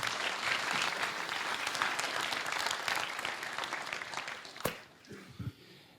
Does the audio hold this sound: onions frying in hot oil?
no